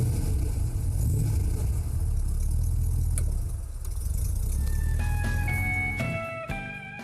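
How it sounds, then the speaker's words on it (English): A 1956-era BMW 503 with a light alloy V8 idles with a deep, steady mid-pitched rumble, close and loud, before revving briefly toward the end as music swells underneath. "It was the first mass-produced car with a light alloy V8 engine, and the sound was music to the ear."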